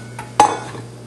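Dried malt extract dropped into water in a pot on the stove for a yeast starter gives a single soft thud and clink, then a quick fading rustle, against a steady low stove hum.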